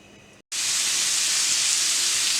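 Bacon frying in a pan for a Valentine meal, a loud steady sizzle and hiss that starts abruptly after a brief silence and holds evenly, with no talking.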